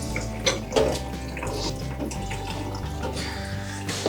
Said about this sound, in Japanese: そして水洗いします。